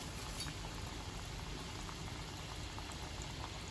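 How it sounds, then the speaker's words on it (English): Donut dough deep frying in hot oil gives a steady, faint bubbling hiss that holds unchanged and alone throughout. "now we're gonna be putting this in the oil,"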